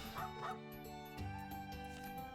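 A dog barks in the video game Trails of Cold Steel 3, with a couple of sharp yips up front and further barks over game music and ambience.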